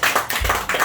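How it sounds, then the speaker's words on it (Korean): A congregation applauds during a church worship service, a brief burst of dense, close clapping with no voices. "우리 장진국 집사님 박수."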